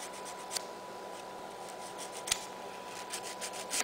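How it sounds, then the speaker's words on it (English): A hand file rasps along the sidewalls of an acrylic nail, quiet close scraping strokes with a few sharper scratches over a faint steady hum. "Take my file sidewalls first."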